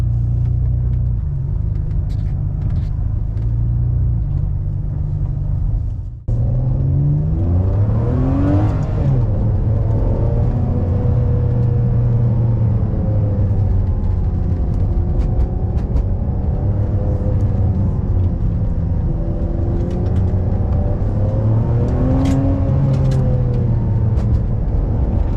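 A Ferrari 599 on a test drive, its engine droning inside the cabin with a brief dip, then rising and falling revs over a deep steady road rumble, loud and continuous, no voices.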